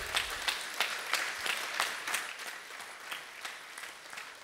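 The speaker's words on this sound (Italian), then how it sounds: "Come vedete, gli facciamo un applauso." Applause from an audience at a Masonic Grand Lodge gathering fills the hall, fairly faint and distant, with irregular overlapping claps carrying on steadily.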